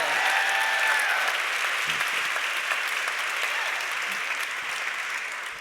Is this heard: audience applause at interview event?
yes